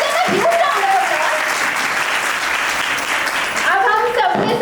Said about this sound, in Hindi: तालियों का हल्ला थोड़ा जोर से होना चाहिए